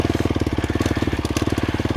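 A 2025 KTM 350XCF dirt bike putters at a slow idle in first gear while climbing uphill, a close, steady, rapid thumping exhaust beat with no talk.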